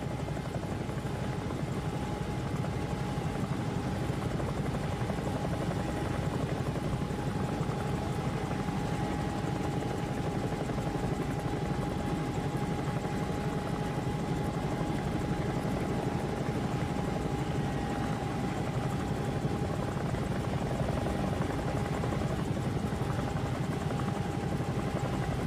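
Bell 222 helicopter in a flight simulator, engine and rotor droning steadily and loudly throughout with a constant turbine whine, no voices over it.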